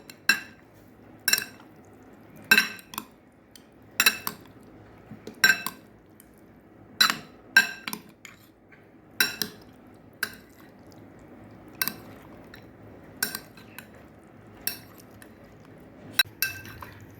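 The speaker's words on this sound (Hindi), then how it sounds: "अब इस तरीके से मिक्स करेंगे।" A spoon clinks and scrapes against a dish while arbi chaat is mixed with chutney, about a dozen sharp metallic taps coming in a steady rhythm, close and clear, with no talking.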